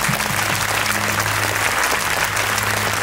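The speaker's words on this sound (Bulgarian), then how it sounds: "силни аплодисменти за тях" Loud crowd applause from an audience at a school open day honouring young volunteer fighters of Bulgaria's liberation, continuous dense clapping with a low sustained musical hum beneath.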